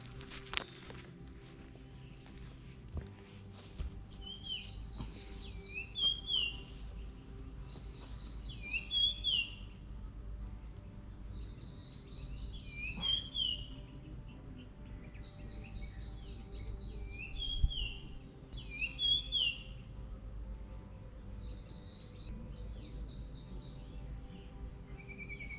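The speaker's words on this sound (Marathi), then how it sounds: "पूर्णपणे पक्ष्यांचा किलबिलाट आहे." Small birds chirp and twitter around the Yogeshwari Devi temple grounds in Ambajogai, with short bright calls repeating every second or two over a quiet background. Soft footsteps are heard now and then.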